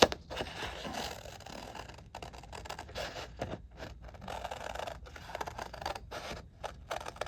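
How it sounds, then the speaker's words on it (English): Scissors snipping and scraping through paper bookmarks along printed lines, a close, continuous series of soft cuts and rustles. "I'm gonna try to trim along the lines here."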